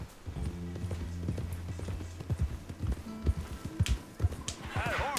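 Horse hooves clip-clop steadily in Red Dead Redemption 2, close by and moderately loud, with a brief whinny and some faint game-like effects near the end.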